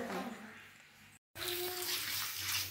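Tap water runs and splashes steadily as vegetables are washed in a home kitchen, fairly faint, briefly cutting out before resuming, with soft voices faintly present.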